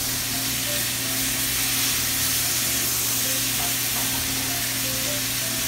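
A steak sears loudly in a hot pan after being turned over in a home kitchen while steak Florentine is being cooked, giving a steady, close frying sizzle with a constant hiss across the whole stretch and no voices.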